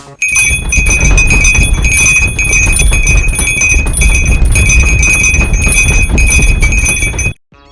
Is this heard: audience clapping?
no